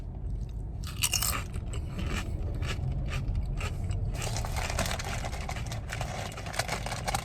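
Miss Vickies lime and cracked pepper potato chips being bitten and chewed inside a car, close crisp crunches in an irregular series that thicken into steady chewing toward the end, with no talk.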